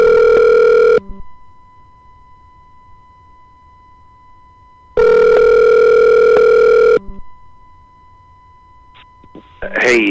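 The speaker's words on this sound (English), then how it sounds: "Dialing in Russ right now." A loud telephone dial tone sounds for about a second, breaks off, then returns for roughly two seconds amid quiet line hiss before a call connects, with a brief voice or noise at the very end.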